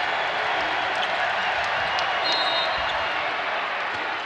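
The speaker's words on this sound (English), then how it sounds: "Crowd loves it." A packed arena crowd at a Nebraska vs Oregon State NCAA women's basketball tournament game roars and cheers in a steady, loud wash of noise, with faint court sounds mixed in.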